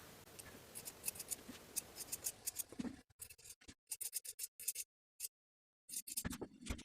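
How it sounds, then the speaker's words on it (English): Sharp scissors snip through woven fabric seam allowances while sewing a romper, giving a quick run of close, crisp cuts followed by separate snips with short silent gaps between them. "it helps to clip the seam allowances by half"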